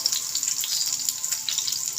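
Garlic and onion frying in a pan give a steady, bright sizzle with fine crackles throughout, close and fairly loud, with no voices.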